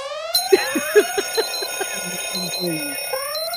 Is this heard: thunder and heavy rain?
no